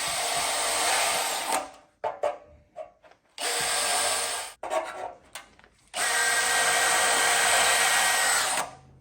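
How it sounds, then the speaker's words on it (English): A power drill whines loudly in three long bursts, drilling pilot holes in a seat frame, with short stops and scraping, clicking handling noises between them. "I'm gonna go ahead and drill some right here."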